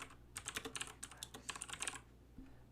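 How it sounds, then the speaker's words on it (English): Quick, light keystrokes on a computer keyboard come in two short bursts as a search term is typed, close and quiet with no voices. "So in the search bar, I'm going to type Chrome Web Store."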